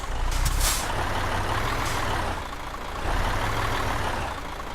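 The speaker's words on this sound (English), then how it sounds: "let's reverse her in now" Truck in Euro Truck Simulator 2 being reversed into position, a steady low engine rumble with air-brake hisses near the start and again midway, loud and close with no talking.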